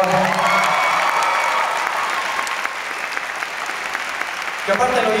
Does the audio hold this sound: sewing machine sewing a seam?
no